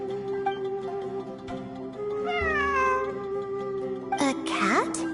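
A cat meows in a video game, several drawn-out rising and falling cries close by, with a louder squealing caterwaul near the end, over a steady tonal background.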